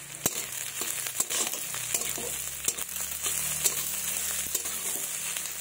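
Onions frying in a pan for a red amaranth greens dish, a continuous crackling sizzle punctuated by sharp spatula scrapes and taps against the pan.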